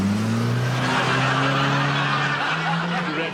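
A new car pulls away at close range, its engine note rising and holding steady for a few seconds with a faint tire whine, loud and alone without talk.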